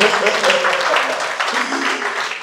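Audience at a talk on the common traits of rich men breaks into loud, close applause, a thick continuous burst of clapping that tapers slightly toward the end, with no speech over it.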